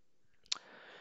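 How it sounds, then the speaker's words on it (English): A single computer mouse click on a register button, a short sharp tick standing out against quiet room hiss, followed by a faint steady hum. "So I will click on register."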